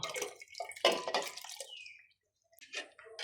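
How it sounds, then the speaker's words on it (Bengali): Water pours into a coconut and sloshes in splashy bursts as it is stirred, then a brief silence before a few more trickling splashes. "পানি ভিতরে দিয়ে একটু নাড়িয়ে নিলাম।"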